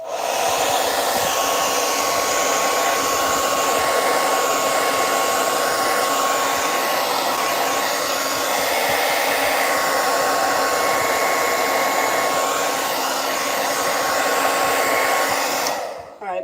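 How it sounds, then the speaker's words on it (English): A hair blow dryer runs continuously and loudly close by, a steady whooshing whine with a faint tonal hum that holds for about sixteen seconds and then cuts off. "All right, our favorite time, blow dryer. Prepare your ears."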